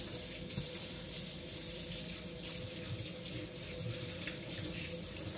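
A kitchen tap runs in a steady, close, continuous stream while hands are washed, with slight splashing shifts and no voices.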